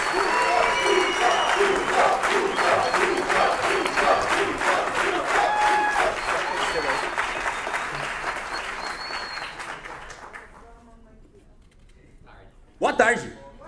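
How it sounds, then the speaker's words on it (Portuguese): Sustained applause from an audience at a political party event, dense and steady for about ten seconds, then dying away to near silence before a short burst of sound at the end. "Aplausos e mais aplausos!"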